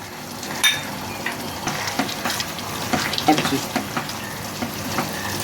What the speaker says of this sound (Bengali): তো আমি অল্প করে একটু জল দিয়ে দিচ্ছি।